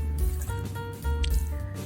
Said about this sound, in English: Add water according to ramen instructions.